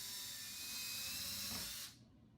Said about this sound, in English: Drill 1/8 inch pilot holes at all locations.